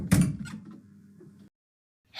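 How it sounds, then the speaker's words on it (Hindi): A door being opened indoors: a sharp knock-like thud of the latch, then a soft rumbling slide or creak for about a second before falling quiet, fairly faint and close, no talk. "चलो दरवाज़ा खोलती हूँ।"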